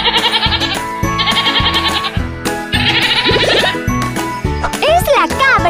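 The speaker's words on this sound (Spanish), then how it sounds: "¡Es la cabra!" A goat bleats loudly several times in repeated wavering calls, mixed with jingling bells and busy background sound.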